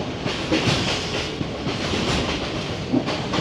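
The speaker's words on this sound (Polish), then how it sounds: "cieszę się, że pociąg jedzie" A passenger train from Kandy to Ella in Sri Lanka rolls steadily along the rails, a continuous rumbling hiss with faint rhythmic clacks, loud and close, with no voices.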